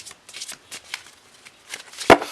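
Tarot cards are shuffled in a pick-a-card reading, with soft papery riffles in short bursts and then one loud, sharp slap of the deck near the end, close by with no talking.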